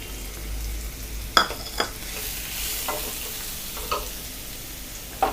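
Soft steady sizzle of chopped large onions frying in a pan until golden for egg masala, with a few light scrapes and taps of a spoon stirring now and then.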